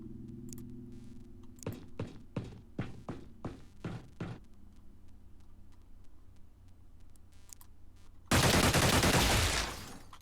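Gunfire from the turn-based strategy game Xenonauts: a ragged burst of several distinct shots with tails in the first half, then a loud, sustained roar of a heavy weapon discharge near the end.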